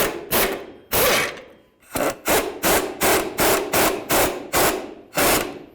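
A ratchet snugs the front shock absorber bolts on a 1988-2002 GMC Sierra 1500: close, rhythmic rasping strokes in quick succession, roughly ten of them with a short pause early on, and no talking.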